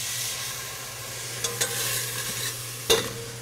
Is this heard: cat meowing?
no